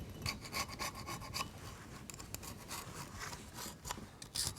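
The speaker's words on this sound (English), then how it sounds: "I'm going to just scrape that out." Corrosion is scraped by hand from the head gasket seat of a 700 Ski-Doo snowmobile engine, giving a steady run of close, gritty rasping strokes with no talking.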